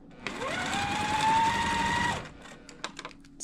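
A sewing machine sews quilt block pieces together in a steady whirring run of about two seconds that rises and settles, followed by a few light clicks as it stops.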